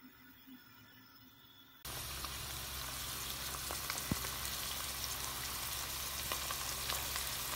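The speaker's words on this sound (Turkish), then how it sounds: "Evet, neredeyse oldu sayılır. Az daha kavuralım." Chicken kavurma, cooked with a little fat, frying in a pan: after a quiet start, a loud, steady sizzle sets in and continues without a break, with occasional small pops.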